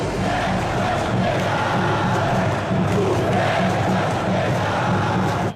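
Fluminense football supporters chant together in a stadium, a loud, dense crowd roar with rhythmic swells of voices sustained throughout.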